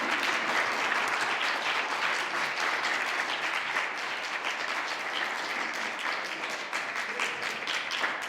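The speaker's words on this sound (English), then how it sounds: "Yeah, you can clap." Audience at an MLK celebration poetry performance claps steadily, a dense, even wash of many hands lasting over eight seconds, moderately distant in the room.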